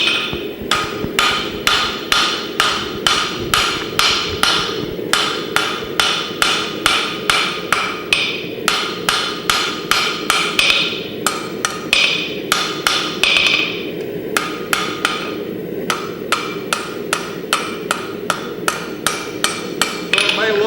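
A hammer forges and tapers a knife blade, striking metal in rapid, regular ringing blows for about twenty seconds. The blows come in bursts separated by brief pauses, all loud and close.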